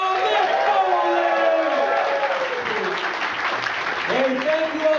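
A live show audience at Cafe Cleopatra in Montreal, during an evening with a guest speaker, claps and cheers in a dense, continuous wash while someone talks loudly over the crowd.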